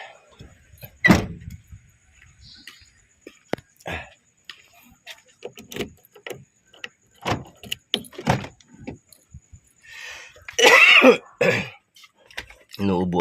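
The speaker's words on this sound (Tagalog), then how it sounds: "Inuubo ako." Several short, sharp coughs and throat clearing at intervals, mixed with talking, car sounds and a door or window moving nearby.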